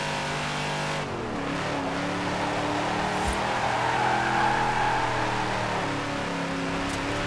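A game car in Forza Horizon 4 drives on, its engine droning and rising in pitch as it accelerates with gear changes, steady and prominent with no voices over it.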